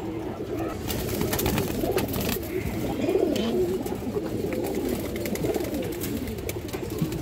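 Several pigeons at a pigeon market coo over and over, low rolling calls overlapping one another at close range, with a busy crowd murmuring behind them.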